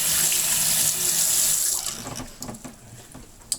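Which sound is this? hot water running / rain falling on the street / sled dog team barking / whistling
hot water running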